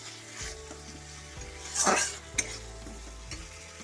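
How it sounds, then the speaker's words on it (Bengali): A spice paste sizzles and fries in a pan for a pumpkin and Malabar spinach curry made with a fish head. A spatula stirs and scrapes it in short strokes, with a louder burst of sizzling midway. There is no talk. "দেখুন মশলাটা ভালো করে কষা হয়ে গেছে"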